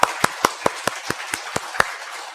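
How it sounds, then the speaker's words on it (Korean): Clapping during a Sunday church worship service: a rhythmic run of about eleven sharp, evenly spaced claps, close and clear, with no talking over them. "하나님께 영광의 박수 올려드리겠습니다."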